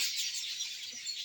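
Birds sing among trees in a maize plantation, high, dense chirping that carries continuously as a faint, distant chorus with no voices.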